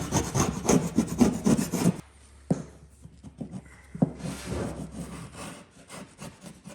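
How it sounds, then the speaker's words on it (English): A sharp chisel scrapes excess material off a wooden baseboard being installed, with a burst of rapid rubbing strokes followed by quieter intermittent scrapes and a few knocks, close by with no talking. "chisel, hands down. Way easier because it's actually sharp to scrape that off"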